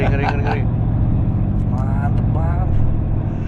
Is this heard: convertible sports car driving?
yes